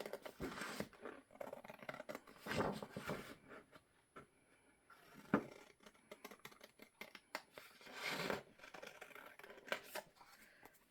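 Scissors snip through glued paper to cut out handmade journaling cards, a string of close, soft crisp cuts in irregular bursts with brief pauses between them, no talking.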